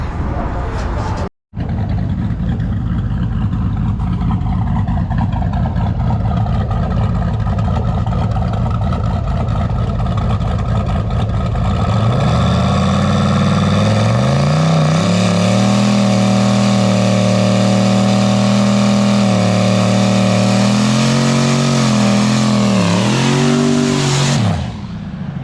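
A Cadillac Escalade engine running. Steady background noise and what may be voices give way, about halfway through, to a loud, close engine holding a strong tone with small rises and dips before cutting off near the end.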